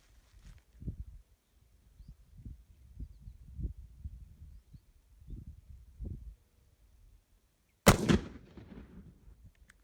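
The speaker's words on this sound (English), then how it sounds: "So we're gonna shoot 2 more rounds of that." A rifle loaded with Chinese 1952 surplus 8mm ammunition fires one sharp, loud shot near the end, preceded by quiet muttering and low handling sounds.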